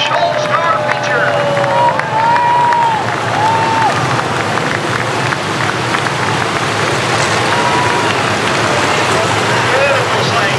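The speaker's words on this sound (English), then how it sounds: "How about a big round of applause?" Crowd applauding and cheering at Adams County Speedway in Corning, Iowa, before a 50-lap Busch All Star Tour feature race in 1990, a dense, steady roar of clapping and crowd noise that holds throughout with whistles and shouts mixed in.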